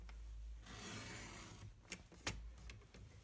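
A paper trimmer cuts an inch off a sheet of card stock to make a card pocket, giving a soft rasping slide followed by a couple of quiet clicks, heard close with no talk.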